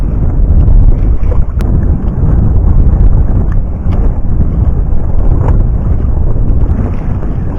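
Strong wind gusts blow across the open sea around a small fishing boat, a loud continuous rumbling roar of wind buffeting the microphone with uneven surges and a few faint knocks, no talking.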